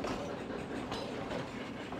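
A diesel train rumbling past nearby, steady heavy rolling noise with faint rhythmic wheel clatter and no voices.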